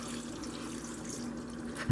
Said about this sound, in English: Just going to add my water.